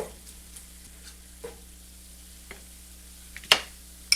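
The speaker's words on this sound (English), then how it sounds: "the ground turkey has thawed, and it's cooking it very nicely" Thawed ground turkey frying in a pan, giving a soft, steady sizzle broken by a few sharp spatula scrapes and taps, the loudest near the end, with no talking.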